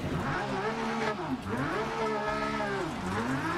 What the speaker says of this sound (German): Karre hat so ein leichtes Problem mit den Bodenwellen.